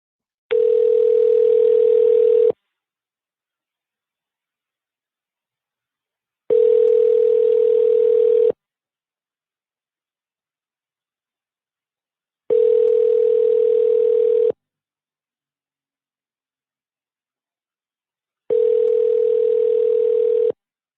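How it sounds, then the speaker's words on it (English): Telephone line tone from a call being placed, sounding as a steady tone in four evenly spaced two-second bursts separated by about four seconds of silence, clear and alone with no talking. "I'm calling everybody back that I missed their call."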